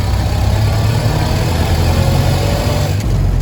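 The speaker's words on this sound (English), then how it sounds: "I want you to see how you double clutch the Model A" A 1931 Ford Model A engine runs steadily as the driver double clutches through the gears, a continuous low rumbling drone with a brief dip near the end as the shift happens.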